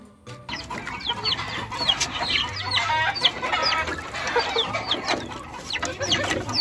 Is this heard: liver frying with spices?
no